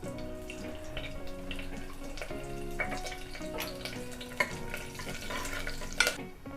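Whole spices (cinnamon, cloves, fennel seeds, curry leaves) frying in hot oil give a soft, steady sizzle, with light clinks and stirring scrapes from a pan up close.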